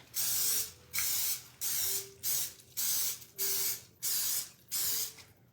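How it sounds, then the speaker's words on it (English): Eight short hissing bursts of aerosol nonstick cooking spray onto a muffin pan in a steady rhythm, close and fairly loud, with brief silences between each spray. "I'm going to spray the muffin pan with nonstick spray"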